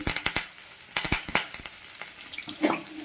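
Onion, green chili and curry leaves fry in a pan for churumuri susla, a quiet crackle punctuated by sharp spatula taps and scrapes at irregular intervals.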